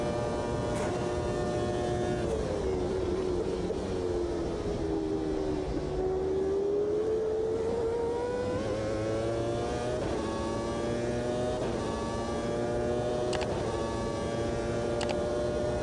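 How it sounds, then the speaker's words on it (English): A 1995 Formula One car engine in a racing game screams through gear changes, pitch rising and falling as it accelerates and lifts around the Italian Grand Prix circuit, loud and continuous with no talk. "It's a bliss to drive this car."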